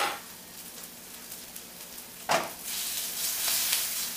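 Eggs frying in a hot pan give a soft, steady sizzle and crackle, with a sudden louder hiss partway through, then a stronger continuous sizzle. It is close and moderately quiet, with no talking.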